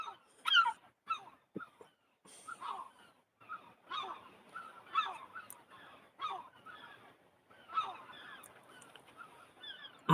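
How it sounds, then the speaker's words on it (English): Seagulls calling outdoors near a church in Jarrow, with repeated honking, squawking cries spread irregularly over several seconds, fairly faint and somewhat distant. "The seagulls are talking like"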